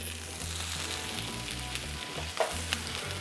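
Sliced mushrooms and onion frying in avocado oil on a Ninja Sizzle grill, a steady close sizzle with a few faint clicks and scrapes.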